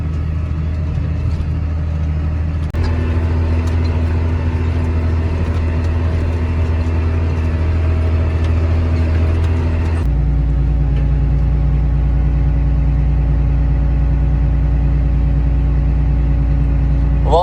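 Farm vehicle driving across a dry field: a steady, loud, droning engine rumble with a constant low hum that shifts pitch partway through and holds unbroken to the end.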